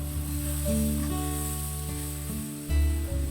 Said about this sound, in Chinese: 再倒入蘑菇，来回翻炒一下，倒入切好的辣椒